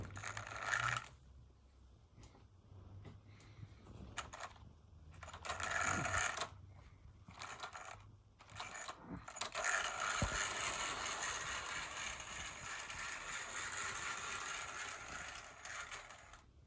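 A Tri-ang Princess model locomotive with a mechanical fault runs on track, giving an uneven clicking and rattling mechanical whir that starts and stops in bursts before running more steadily, faint and close.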